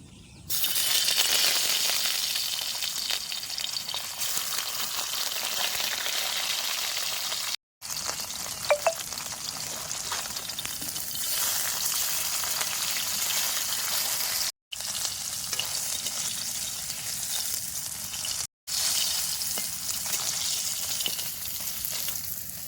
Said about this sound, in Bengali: মাছের লেজগুলো সুন্দর দেন ভাজা হয়ে গেছে